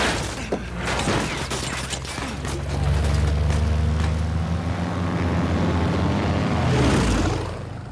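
Propeller plane engine from the Uncharted 4 video game, a loud steady low drone that swells and holds, mixed with scattered bangs and impacts, with no speech over it.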